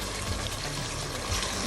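Water and coconut milk poured into a pressure cooker with rice for vegetable biryani, a continuous close splashing gush of liquid that stays steady and fairly loud from start to end, no voices.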